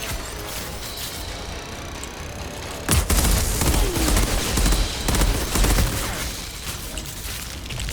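Rifle gunfire in the Outriders shooter game, sustained rapid bursts of loud shots over constant game background noise, with the heaviest firing in the middle of the stretch.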